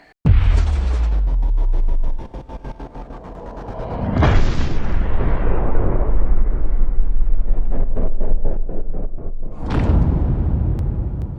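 Gunshots fired for high-speed bullet filming ring out as three loud, sharp booming reports, at the start, near four seconds and near ten seconds, each followed by a long rumbling echo and ringing decay.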